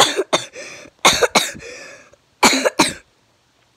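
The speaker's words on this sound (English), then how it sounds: "there's something wrong with my cough." Several harsh, close coughs come in quick bursts, grouped in pairs with short pauses between, ending in silence.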